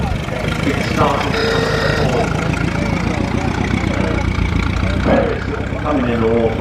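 A pre-war Austin 12-4 Windsor car runs past at a steam rally with a steady mid-pitched engine drone and outdoor crowd noise, while a voice talks over it.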